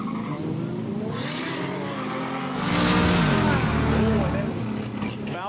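Turbocharged Ford Falcon drag car at a street drag meet, engine roaring and revving up hard as it launches, loud and close with tyre noise, a commentator talking over it.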